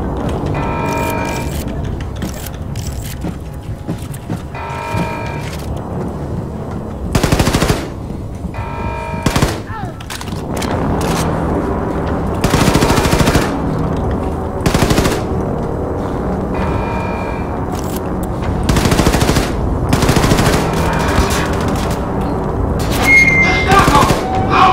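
Rapid automatic gunfire in Wolfenstein 2 comes in loud repeated bursts with short gaps between volleys, mixed with game music and occasional thumps.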